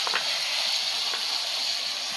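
Chopped green chilli and onion sizzle in hot fish oil for a Bengali chorchori, a steady, close, hissing crackle with no pauses and no talk.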